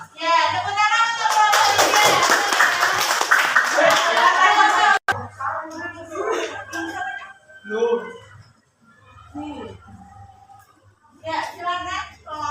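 Classroom of students clapping together for a group, a loud dense burst of applause lasting several seconds, then the teacher and children talking afterward.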